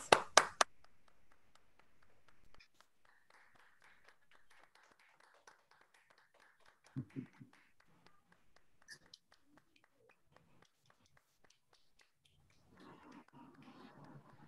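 A handful of loud, close claps open an online graduation ceremony, then fade to sparse faint taps and near silence, with soft murmuring and a brief burst of distant noise near the end.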